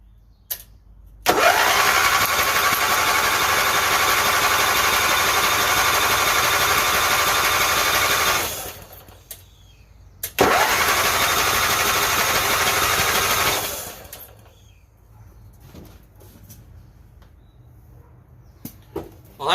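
Craftsman LT1000 lawn tractor engine cranking with no compression: two long bursts of fast, even, whirring starter cranking, each about seven and three seconds long, loud and close, with quiet gaps and small knocks between them.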